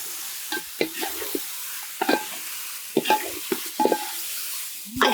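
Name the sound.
meat frying in a pan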